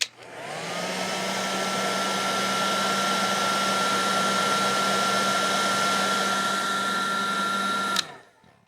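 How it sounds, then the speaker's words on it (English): A heat gun shrinks heat-shrink tubing over wire connections while a 1972 Midland (Hitachi) 15-090 9-inch black-and-white television is being repaired, giving a loud, steady blowing whir for about eight seconds before it cuts off abruptly. "And then I'll go get my heat gun. And we'll heat them up, shrink them down."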